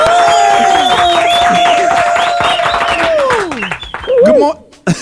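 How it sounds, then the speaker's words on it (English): Studio audience of a morning show cheering and clapping for Taraji P. Henson, a dense, loud crowd roar with a long whoop held over it, tapering after a few seconds into voices. "One big round of applause."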